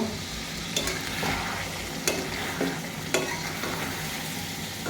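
Spicy goat liver bhuna fries in a pan with a constant loud sizzle, broken by a few scraping stirs of a spatula, heard close with no talk.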